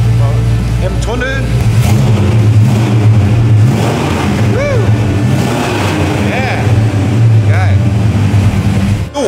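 A Ford F-250 Highboy Ranger XLT truck drives out of a forest, its engine droning steadily throughout, with people talking over it in the cab.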